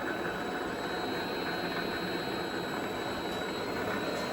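A Vevor MX400 mini lathe runs at low spindle speed, giving a steady, fairly faint whirring hum with a thin high whine, continuous and alone.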